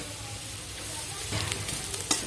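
Garlic frying in oil in a pan over onions and cumin, a steady soft sizzle with a few light stirring scrapes near the end.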